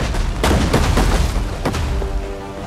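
Siege weapons pound a city wall during a battle in Rome 2 Total War, a dense run of heavy booms and thudding impacts over a continuous roar of battle.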